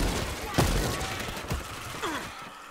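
Gunfire in the zombie shooter World War Z: Aftermath, a few scattered shots and impacts over a noisy game mix, with brief groans and a person talking.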